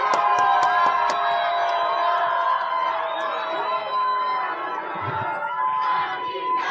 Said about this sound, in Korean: 함성 소리가 큰데요